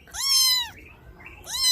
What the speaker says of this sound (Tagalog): may pusa na naman na